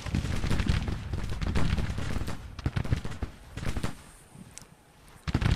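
Soldiers in a war video game unleash dense, overlapping volleys of gunfire, with crackling bursts and scattered single shots, some near and some distant, rising and falling before a last loud burst.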